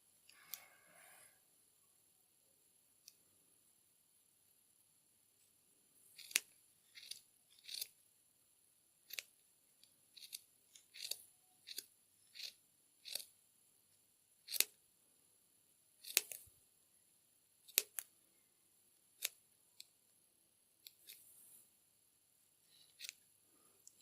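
Scissors snipping knitted yarn threads on a half jacket, a long run of crisp, separate cuts in uneven rhythm, close and quiet against a near-silent background, with no talking.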